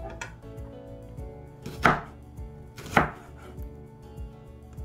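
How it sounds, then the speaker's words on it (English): Half an onion being chopped into small pieces on a board with a knife: two loud, close, sharp cuts about a second apart, with softer scraping and knocking around them and no voices. "make sure you cut them in small pieces"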